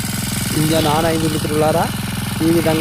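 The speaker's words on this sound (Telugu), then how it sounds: "చౌకుని కిందికి వేసి ఇప్పుడు స్టార్ట్ చేయడానికి ఇంజన్ ఆన్ అయింది" A petrol grass cutter engine running after the choke is set, a steady close rumbling idle continuing throughout beneath someone talking.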